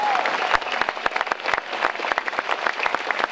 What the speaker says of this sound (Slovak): To si zaslúži obrovský potlesk.